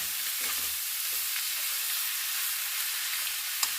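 Fried mushrooms being stirred in a hot pan, heard as a steady close hiss of sizzling oil with a few soft scrapes and one sharp tap near the end.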